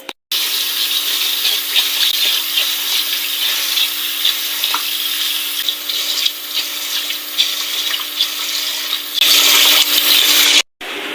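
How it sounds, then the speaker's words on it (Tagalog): Glutinous rice being washed in water for puto maya, a steady close hiss of running tap water and swishing grains in a bowl with brief clunks. "yung unang gagawin ay huhugasan natin tong malagkit na to"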